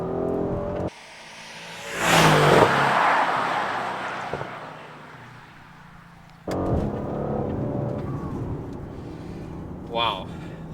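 A 2020 Mercedes-AMG GLC63s Coupe drops a gear and its engine rises in a loud surge of acceleration from inside the cabin, easing off before a second pull builds, with road roar underneath.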